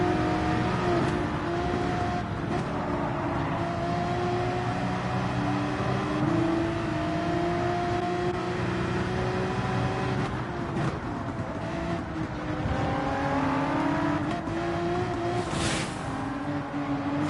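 Race car engines droning steadily on the Dragon Trail Gardens circuit in Gran Turismo 7 during a Manufacturer's Cup race, with shifting engine tones as cars jostle through corners and a chicane, continuous and fairly loud.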